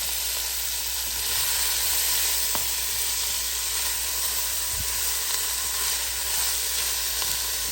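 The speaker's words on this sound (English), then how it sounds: "Celery and carrots. And I have these all diced very fine, so they won't take very long to saute." Finely diced onions, celery and carrots sautéing in an Instant brand Dutch oven, giving a constant, even close sizzle and hiss with an occasional faint clink, steady throughout with no voices.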